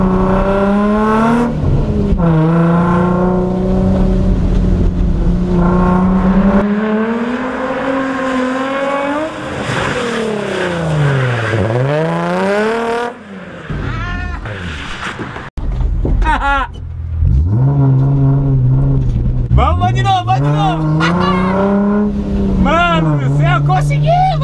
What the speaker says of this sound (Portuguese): a hora que eu puxar o freio de mão, o carro fizer o 360, o carro tem que passar no meio desses dois cones